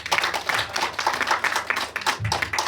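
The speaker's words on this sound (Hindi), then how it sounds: "ठीक है तालियां" A small group seated indoors claps in uneven, rhythmic bursts, fairly close and moderately loud, with no talking over it.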